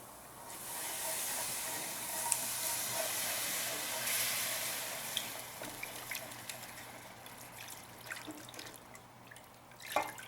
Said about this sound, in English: now we're going to put in 1 3/4 cup of beef broth